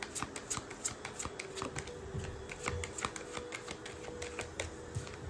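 Tarot cards shuffled and turned over, a close, continuous riffle of quick papery flicks and snaps with a faint steady hum beneath.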